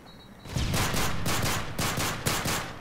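Rapid gunfire in the video game Call of Duty Modern Warfare 3 crackles in loud dense bursts, a sustained automatic volley broken by short pauses, with no talk.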